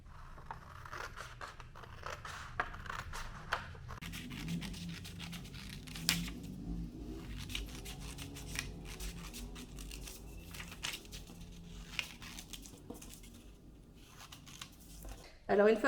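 Scissors snip through strips of blue paper in a quiet room, giving a run of small crisp cuts and rustles. The sounds come intermittently at a soft, close level.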